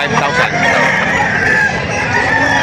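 Roosters crow loudly and close at a poultry livestock auction market in Padre Garcia, Batangas, with overlapping drawn-out calls and clucking over a busy background.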